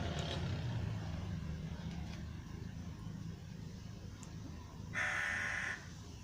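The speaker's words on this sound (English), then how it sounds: "the crows are talking with each another," Crows caw outdoors, a few harsh calls rising over a steady background of traffic hum. One loud, close caw stands out near the end.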